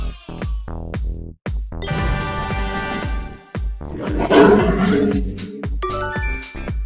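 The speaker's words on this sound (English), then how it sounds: "It's a lion." A lion roars loudly in a children's animal-sound guessing game, the roar swelling in the middle amid playful chimes and bright musical tones.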